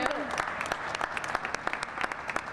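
Applause from an audience at a community Welcoming Week press conference, with quick scattered claps rising in a moderate, uneven patter that carries on without pause.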